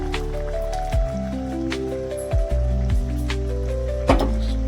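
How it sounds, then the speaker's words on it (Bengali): Ground poppy seed paste goes into a cooking pot, making a few soft, wet squishes and plops over a steady low hum, close by and moderately loud. "এবার আমি দিয়ে দেব বেটে রাখা পোস্তটা"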